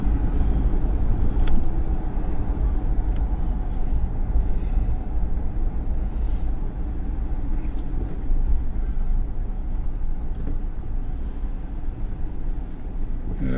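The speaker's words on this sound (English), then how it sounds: "I'll just kind of drive by here slowly so you can get an idea." A car rolls slowly past a lava field in a volcanic area, a steady low engine and road rumble throughout with no talk.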